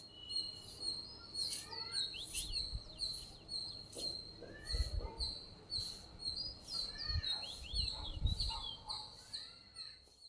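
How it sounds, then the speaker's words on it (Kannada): Small birds chirp and tweet in repeated short calls across the early morning air, several voices overlapping at moderate distance, over a low background rumble with occasional soft thuds. "ಪೀಕ್ ಪೀಕ್ ಪೀಕ್ ಅದೊಂಥರ ಸೌಂಡೇ ಚೆನ್ನಾಗಿರುತ್ತೆ, ಪಕ್ಷಿ ಸೌಂಡ್ ಮಾಡೋದು"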